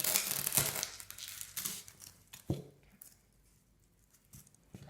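Craft foam for a macrame plant holder being cut, close crunchy crinkling and squeaky scraping strokes that come in short bursts and then fade to quieter rustles.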